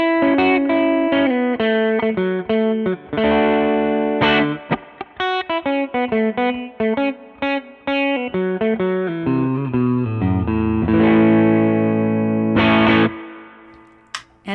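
Electric guitar on the middle pickup position, played through an overdrive pedal set cleanly, with close, loud single-note runs and chord stabs carrying a light crunch.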